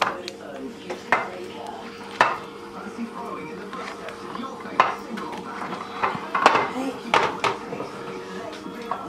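A spoon scrapes and clinks as cooked mince is transferred from a pan into a baking dish, with intermittent metallic knocks and taps, while a person talks over it.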